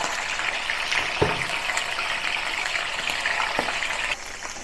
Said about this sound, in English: I intend to deep fry the pork ribs in batches